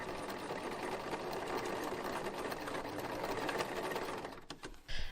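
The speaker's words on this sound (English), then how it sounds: "And then sewing the corner of the pocket closed." Sewing machine stitching a fabric pocket corner closed, a steady close-up mechanical whir running without pause for several seconds before stopping abruptly near the end.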